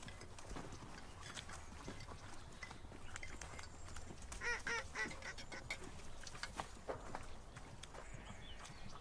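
Donkey hooves clop on the ground in a Turkish village, a steady scatter of knocks amid busy outdoor noise, with ducks quacking nearby and no clear talk.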